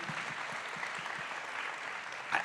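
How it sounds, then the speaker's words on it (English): Applause from a conference audience on the opening day of a global citizenship event, steady dense clapping sustained throughout with no voices over it. "Give yourselves a round of applause."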